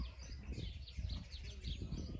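Faint birdsong drifts through a garden, with thin, scattered chirps and calls over a low, steady rumble of background noise.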